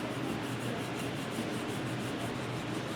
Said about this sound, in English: soft bristle brass brush because I don't want to scar the surface